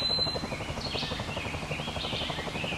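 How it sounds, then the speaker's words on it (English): A helicopter in a cartoon dub, heard as a steady, continuous rotor-like drone with a rhythmic low-frequency pulse and some higher whine, held evenly throughout at moderate loudness with no talk. "A helicopter! They're looking for us!"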